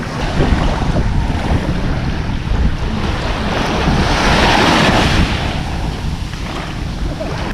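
Sea waves breaking on a beach at Port Barton, Palawan, in the Philippines: loud rolling surf with a swelling crash midway, mixed with heavy wind buffeting on the microphone, no voices.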